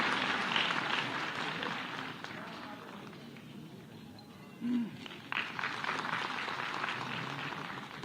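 A hall audience at an environment conference in Ravindra Bhawan, marking three years of a tree-planting pledge, gives faint, distant applause. The clapping fades in the middle, then swells again under a soft public-address voice.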